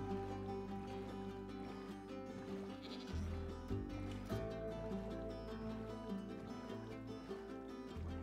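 Goat bleats in a video game, several wavering nasal bleats layered over a continuous tonal musical backing, moderately quiet and without talking.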